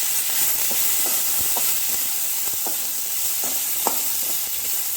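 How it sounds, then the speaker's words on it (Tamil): Thuthuvalai and appakovai herb leaves sautéing in a pan with asafoetida for rasam: a steady hiss of frying throughout, with scattered light scrapes and taps of stirring, no talk. "இது நல்லா இலையெல்லாம் சுருண்டு வர வரைக்கும் வதக்கணும்"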